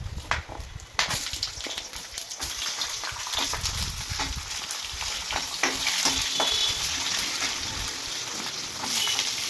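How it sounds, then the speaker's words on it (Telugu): Onions, tomatoes, ginger, garlic and green chillies fry in a pan of hot oil for a mutton curry accompaniment, a steady close sizzle with stirring clatter and sharp spatula scrapes throughout, no voices. "వేసుకొని ఇవన్నీ బాగా వేయించుకోవాలి"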